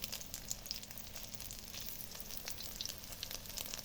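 Eggs sizzling in oil at night alongside potato, eggplant, taro and coriander leaves, a steady close crackle of frying with faint stirring, no talk.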